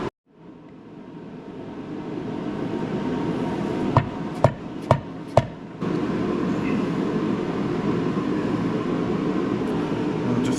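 A seal is driven into a Chevy Gen 6 454 big block engine with a seal driver and struck by four sharp, metallic hammer taps in quick succession over a steady background hum.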